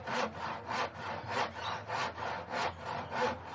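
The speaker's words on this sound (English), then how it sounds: "Handsaw." Handsaw cutting through mahogany, a steady rhythm of about eight rasping back-and-forth strokes, close and fairly quiet, with no voices.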